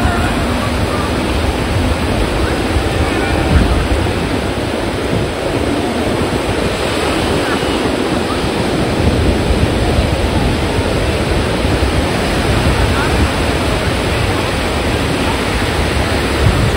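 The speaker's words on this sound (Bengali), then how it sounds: "ঢেউ একটার পর একটা তোমার বড় বড় ঢেউ আসছে" Large sea waves roll in one after another at Digha beach, a loud, continuous roaring wash of surf that stays close and unbroken throughout, with no voices standing out.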